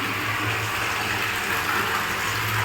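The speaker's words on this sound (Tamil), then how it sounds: "போரில் தண்ணி வந்துட்டுருக்குங்க" Water from a borewell at a housing site gushes out in a steady, continuous rush, close and fairly loud, with a faint low motor-like hum beneath and no talk.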